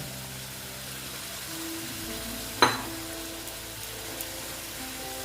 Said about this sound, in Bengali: এবার পটলগুলো এই যে পটলগুলো ভেজে রাখা পটলগুলো দিয়ে দিলাম